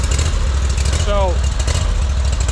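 Ferris ISX 3300 zero-turn mower engine at low idle outdoors, a steady, loud low rumble running continuously while someone talks over it.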